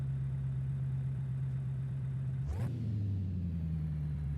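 A Dodge Challenger Hellcat Redeye idles in the video game Forza Horizon 5, giving a steady low engine drone with a brief blip around midway before settling back to a slightly lower, even rumble.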